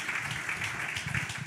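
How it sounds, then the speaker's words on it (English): Audience applause at a community gathering, a steady wash of clapping heard briefly from a distance, with no voices standing out. "y'all got to clap it up for my brother from another mother."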